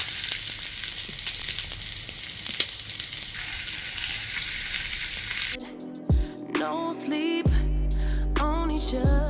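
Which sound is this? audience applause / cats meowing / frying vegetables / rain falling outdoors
frying vegetables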